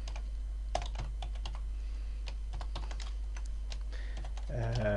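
Irregular clicks of a computer keyboard as PHP code is typed, close and crisp over a steady low hum, ending with a voice starting to speak.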